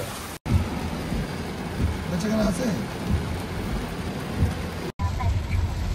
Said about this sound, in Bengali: এত পরিমাণে বৃষ্টি কি কমবো না